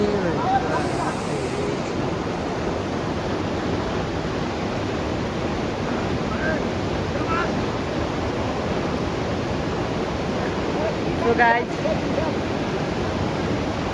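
A big river roars as a broad, steady wash of rushing water while a buffalo is taken across, loud and unbroken throughout, with a voice speaking briefly over it.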